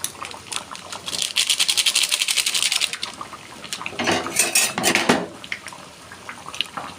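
A metal spoon scrapes and clinks against a pan while stirring meat curry with potatoes and garam masala, a rapid rattling burst of metallic taps, then slower wet stirring scrapes, close and fairly loud.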